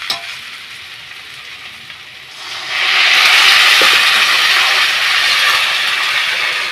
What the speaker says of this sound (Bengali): এইবারে এর ভেতরে আমি জল দিয়ে দেবো।